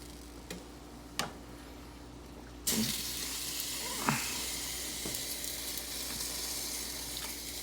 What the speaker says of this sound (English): I'm going to ladle in more stock.